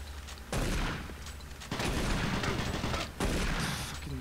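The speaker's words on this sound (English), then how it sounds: "Shotgun to the boss" Shotgun fire in Doom 3, with three loud heavy blasts spaced about a second apart, each leaving a long rumbling tail, close and without talk.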